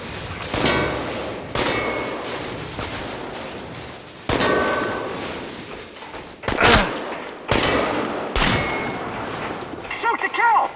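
Gunfire and metallic clangs in the video game Chernobylite, with loud bursts of shots and impacts repeating in irregular clusters, interrupted by brief pauses, while voices shout over the action.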